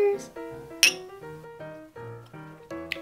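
Glasses clink together in a toast, a sharp bright tap near the start and a fainter one at the end, while several people cheer and talk over it.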